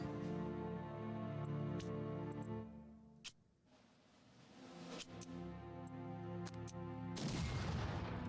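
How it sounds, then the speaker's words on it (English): Theater asset artillery bombardment in the Unity of Command II strategy game, a few sharp distant booms and impacts over a steady musical game backdrop, fairly faint overall. "We get a QE theater asset bombardment."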